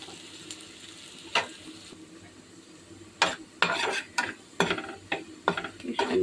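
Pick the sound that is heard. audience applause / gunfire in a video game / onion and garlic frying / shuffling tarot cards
onion and garlic frying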